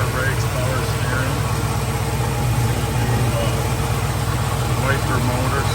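A 1985 Chevrolet Blazer with an Edelbrock intake and headers idles steadily up close, a low, even rumble that holds constant throughout with no revs.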